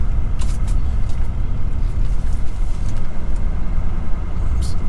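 Car driving slowly through a non-electric aspen campground at a recreation area, a steady close engine and road rumble that holds constant throughout, with no talk.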